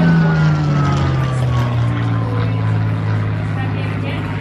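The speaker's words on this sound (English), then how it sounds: "Not seen any F-18s yet, but still pretty good, the old Spitfire." A Supermarine Spitfire propeller aircraft flies overhead at an outdoor event, giving a loud, sustained droning engine roar that slowly shifts in pitch as it passes.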